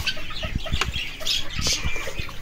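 Hens clucking close by as they peck at fallen feed, a busy run of short, irregular clucks and squawks with no voices over them.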